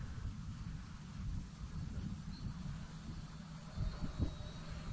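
An FT Freedom Fox V2 RC foam plane on its maiden flight, flying high overhead with a faint, thin electric motor whine above steady low wind rumble, with no talk.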